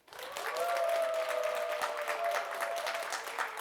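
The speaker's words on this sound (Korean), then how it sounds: "여기 누가 제일 박수가 컸을까요? 다시 한번 할까요?" A seminar audience at a medical exhibition bursts into applause, which swells quickly and holds steady at moderate volume, with a faint sustained tone running beneath the clapping.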